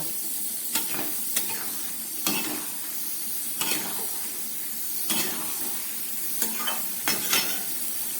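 Curd chicken with potatoes is stir-fried on a high gas flame. A constant loud sizzle runs under regular scraping strokes of a spatula in the pan, close and without voices.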